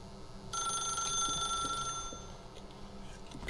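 A telephone rings in the video game The Stanley Parable, a bright electronic bell-like trill that starts suddenly and sustains for a few seconds, loud and close, with faint game ambience beneath.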